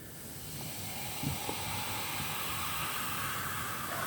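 An alcoholic drink fizzes steadily, giving a soft, continuous hiss of bubbles that holds for about four seconds, faint and close with no one speaking.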